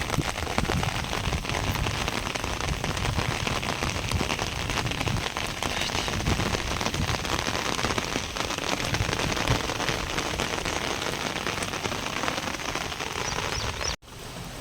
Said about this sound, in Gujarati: ખાલી વરસાદ છે, પહેલો વરસાદ છે